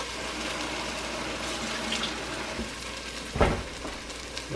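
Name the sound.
cleaning out the tomato can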